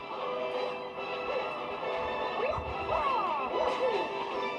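Mario being struck by a volley of bullets in Super Mario Galaxy, a couple of sharp smacks landing over busy game music and swooping effects, mid-loud and fairly close.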